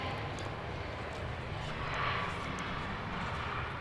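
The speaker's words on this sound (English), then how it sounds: "So here comes the flight from Portland." An airliner arriving at Dallas Love Field gives off a steady broadband jet roar that swells slightly midway, heard from moderate distance with no talk.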